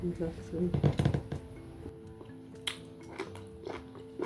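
Close-up crunchy chewing and biting of wild mushroom with white rice, sharp crackles repeating irregularly, loudest in the first second, with faint background noise and some voice-like hum.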